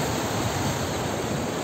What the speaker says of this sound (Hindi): देखो पानी कितना शानदार बह रहा है यहाँ से, पूरा एकदम क्लीन वाटर